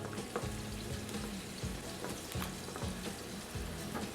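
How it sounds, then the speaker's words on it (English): Snapper in imperial sauce sizzles in a pan, a continuous close frying crackle with a few soft stirring scrapes over the top. "Give that one final little stir."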